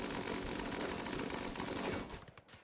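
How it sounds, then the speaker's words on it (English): Rapid automatic gunfire from AI robot colonists shooting each other in the Rimworld video game, a dense continuous burst of shots that cuts off and fades to quiet in the last half-second. "They will shoot each other because of the way I position them."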